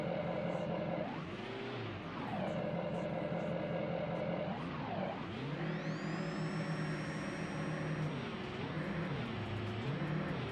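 A simulated 2011 Chevy Duramax diesel engine on 80% fuel in BeamNG Drive revs repeatedly, rising and falling in drawn-out swells, then holds a high steady drone with a whine climbing above it.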